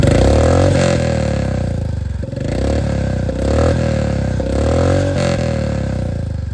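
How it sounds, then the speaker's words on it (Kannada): Loud, close motorcycle with an aftermarket exhaust, revving up and easing off in repeated swells, with a throaty, pulsing note and no talking. "ನೀವು ಎಕ್ಸಾಸ್ಟ್ ನೋಟ್ ಕೇಳ್ತಾ ಇರ್ಬೋದು ಹೇಗಿದೆ ಅಂತ"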